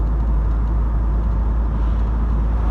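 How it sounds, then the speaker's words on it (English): A retro car drives through Sheffield city streets, its engine giving a steady low rumble with continuous road noise from inside the cabin, loud and unbroken, with no talk. "I just thought I'd do a little bit of driving through the city streets of Sheffield."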